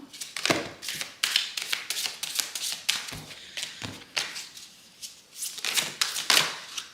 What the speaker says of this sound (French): je vais tirer une carte de cet oracle-là